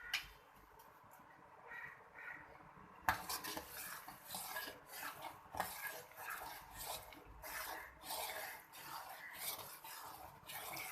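Sugar is stirred into boiled milk for sheer khurma, with a spoon scraping and clinking rhythmically against a metal pot. The first few seconds are quiet, then the stirring runs steadily and close.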